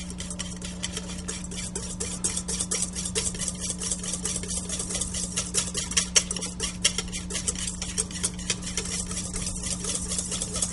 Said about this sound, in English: put a little bit in, whisk that up so it slowly brings the eggs up to temperature